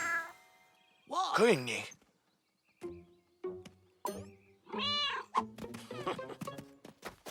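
A cartoon cat, Azrael from The Smurfs, lets out drawn-out meows and yowls, loud and close, followed by a string of short mewing cries mixed with a speaking voice.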